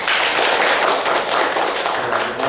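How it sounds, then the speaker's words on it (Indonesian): Applause fills an auditorium at a student orientation for a pharmacy professional program, a dense, steady crowd clapping at full volume for about two and a half seconds with no talk over it. "Berikan tepuk tangan deh."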